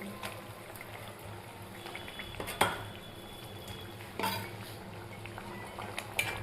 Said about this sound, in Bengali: এরপর ভাজা মাছগুলো আমি একে একে এর মধ্যে দিয়ে দেবো।